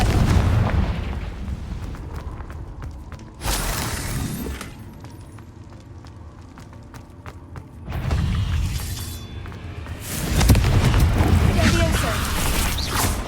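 Confringo blasting-spell explosions in the video game Hogwarts Legacy: loud bursts with crackling debris, one mid-clip and a bigger, longer blast near the end, amid game sounds.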